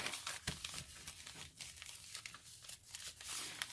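Recycled album pages being folded and creased by hand into a napkin pocket, giving a steady run of soft, close crinkling and crackling paper sounds with a few sharper crisp bursts, no talking.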